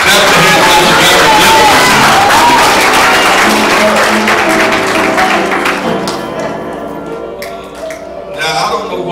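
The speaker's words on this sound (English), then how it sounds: "clap your hands all together" Church congregation clapping hands together, a loud crowd wash blended with music that thins out and fades partway through before a brief swell at the end.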